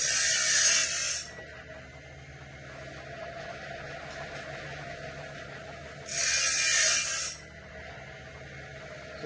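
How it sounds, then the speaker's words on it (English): An automatic bandsaw blade sharpener for a sawmill runs with a steady mechanical drone, broken twice by a bright, hissing grinding burst as the wheel passes a tooth. "it'll run all the way around till it gets to that point, and it'll automatically turn off the sharpener"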